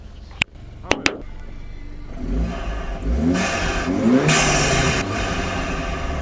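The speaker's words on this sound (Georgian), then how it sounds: "ეხლა წესით ტურბინის ხმა უნდა ისმოდეს" A BMW 228 engine is revved with turbo, giving a few sharp clicks, then rising and falling revs that build to a loud, sustained whirring roar heard close by inside the car.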